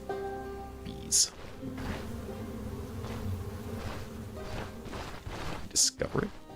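Bees buzz steadily in the fantasy role-playing game Stoneshard, a continuous insect drone under game sounds, with a few sharp bright clicks or chimes breaking in.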